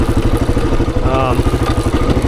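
A 26-year-old Honda XR400 dirt bike fitted with a pumper carburetor, its single-cylinder engine chugging in a steady low pulse at close range, loud and continuous, with a brief rev rising in the middle.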